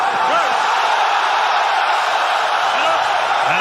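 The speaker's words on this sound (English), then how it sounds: "This crowd is going berserko, I can tell you that." A loud, dense arena crowd roars and cheers without letup at a kickboxing fight, a wide wall of noise with whoops cutting through.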